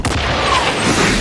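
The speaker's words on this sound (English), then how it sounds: "Huge concussive explosion, three people knocked out." Breaching charge detonating alongside a fire extinguisher in the Hitman video game, a single loud concussive boom with a deep low rumble that fills the short moment.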